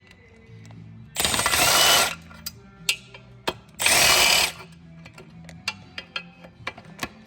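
Power tool, likely an impact wrench or drill, spinning off 9/16 bolts from a rusty CAT 3408 diesel V8 engine: two loud sustained bursts of roughly a second each, separated and followed by sharp metallic clicks and taps.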